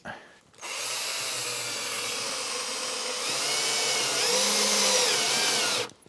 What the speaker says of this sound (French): Et les vis qui vont ici, il n'y a pas de pré-trou, donc je vais fixer quand même.